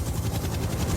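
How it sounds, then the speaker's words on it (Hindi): Helicopters fly overhead near the pyramids in Egypt, giving a continuous loud rotor thumping and engine rumble that fills the whole moment with no voices. "क्या तुम्हें हेलीकॉप्टर्स की आवाज आ रही है?"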